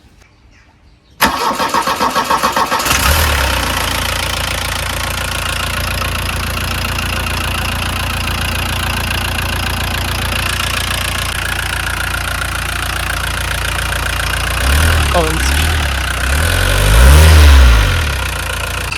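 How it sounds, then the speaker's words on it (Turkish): Volkswagen Golf Mk2 engine cranking and catching, then settling into a loud steady idle before a couple of revs near the end; a brief spoken word is heard before it starts. "O zaman bir start verelim mi? Bir duysunlar sizin."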